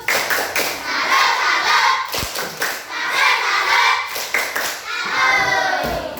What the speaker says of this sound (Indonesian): tepuk salut dulu buat kelompok 3